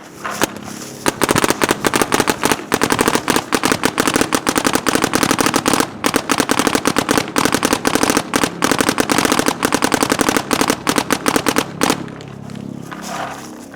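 An Etha 2 paintball marker with a Pal loader fires in a rapid, continuous burst of sharp pops lasting about ten seconds, loud and close, ending abruptly.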